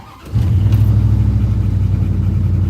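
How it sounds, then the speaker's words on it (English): A car engine rumbles low and steady, settling into a loud, continuous idle that sounds turned up too high, as if revving on its own, with no talk over it. "That shit is turned up like it's just revving itself."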